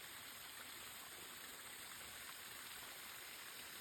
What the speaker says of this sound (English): we have multiple natural spring waterfalls that come from up the mountain there